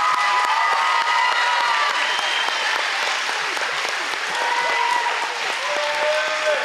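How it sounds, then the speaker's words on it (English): Loud, sustained applause from an audience at a 6th grade promotion ceremony, dense clapping with some cheering mixed in, continuing evenly throughout. "Let's give these great students one more round of applause"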